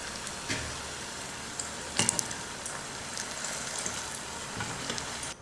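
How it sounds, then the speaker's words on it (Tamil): Sweet dumplings deep-frying in hot oil until golden, a faint steady sizzle and bubbling with a few clinks and scrapes of a utensil in the pan, no talk. "மேலே மட்டும் நல்லா பொன்னிறமாக கலர் வந்தால் போதும், பொரிச்சு எடுத்துடலாம்"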